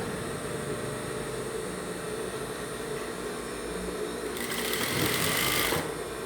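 A sewing machine runs steadily as it stitches along the edge of women's boxer shorts, with a constant close whir that grows louder and brighter near the end, and no talk.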